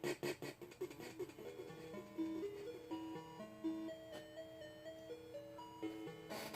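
Bleepy ZX Spectrum game intro music from a 1984 title plays fairly faint, a quick run of thin square-wave notes stepping up and down in a rapid melody.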